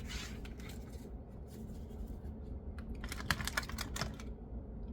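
Crisp, rapid riffling and flicking of cards, coming in bursts of fluttering clicks, close by and fairly quiet, with no talking.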